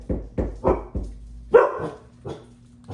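Several dogs barking in short, sharp bursts, about six barks spread across a few seconds, close and fairly loud, with no talking over them.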